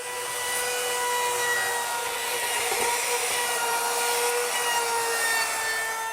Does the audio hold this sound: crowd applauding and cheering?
no